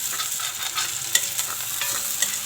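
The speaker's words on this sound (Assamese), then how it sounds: "আদা নহৰু পিঁয়াজ দিয়ে মই তেলত ভাজিছোঁ" Ginger, garlic and onion fry in hot oil, a steady close sizzle with a few sharper crackles and spatula scrapes over a short stretch, no voices.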